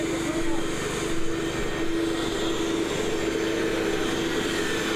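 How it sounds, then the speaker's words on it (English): A portable generator runs on a construction site, powering drywall sanders for sheetrock finishing: a loud, steady engine drone with a constant hum, unbroken for the whole stretch. "we had to hook up the generator so these guys could sand"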